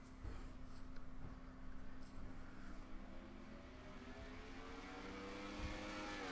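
Race cars driving through the final corners at Sonoma, engines droning steadily with a rising whine as cars pass, distant and fairly faint.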